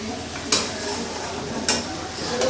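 Mutton sautéing in a pan for mutton kosha with cardamom, cinnamon and black pepper sizzles steadily while a spoon scrapes and knocks against the pan twice, close and clear with no talk.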